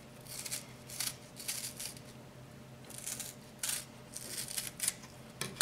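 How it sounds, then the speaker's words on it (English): A knife cuts a rhubarb stalk lengthwise in repeated crisp slicing bursts, several short crunchy strokes with brief gaps, close and moderately quiet, no speech. "I'm going to cut the stalk 3 times lengthwise."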